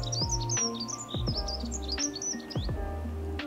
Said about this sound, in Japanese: ここで一番いいなっていうふうに選んだのがこの鳥の鳴き声になります